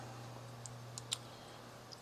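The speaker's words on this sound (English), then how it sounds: "Put an enter in here and just keep typing." Faint, sparse clicks of typing on a computer keyboard, a few isolated keystrokes over a low steady hum.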